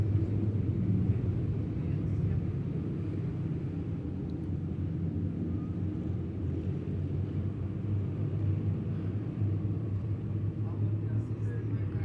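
Race cars on the track at Midway Speedway, a continuous low engine rumble from the field circling under caution, steady and somewhat distant, with an announcer talking over it.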